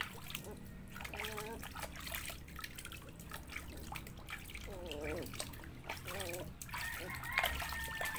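Water splashing and trickling as Labrador puppies get their first bath, with a steady run of dribbling and splatter throughout and people talking alongside.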